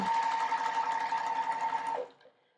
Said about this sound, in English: I'm just going to sew a 1/4-inch seam